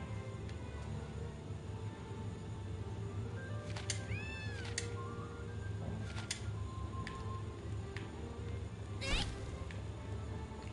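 A cat companion in the PS4 game Gravity Rush Remastered meows a few times in short, rising cries over a quiet, steady game soundscape.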